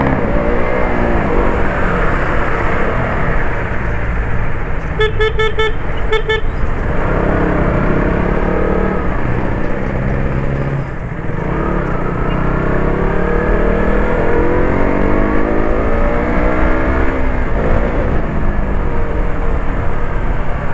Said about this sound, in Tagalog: Maganda talaga tong motor na to.